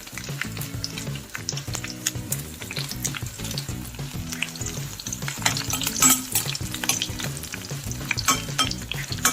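Garlic, curry leaves and dried red chillies sizzle in hot oil in a pan, a loud, steady crackle broken by stirring scrapes and clinks.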